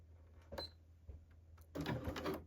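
A sewing machine runs in short stop-start bursts, stitching a brief back stitch at the edge of a folded dart in blazer fabric, close and moderately quiet, with small clicks between runs.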